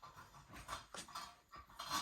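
A dog pants softly and rhythmically close by, with quick breathy huffs repeating at an uneven pace over a faint background.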